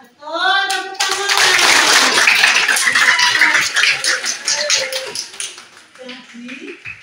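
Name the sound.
class clapping hands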